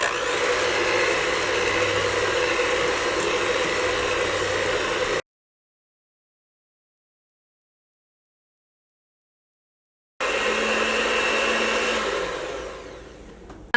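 An electric hand beater whips urad dal vada batter with a steady motor whine. It runs in two bursts split by several seconds of silence, and the second burst winds down at the end.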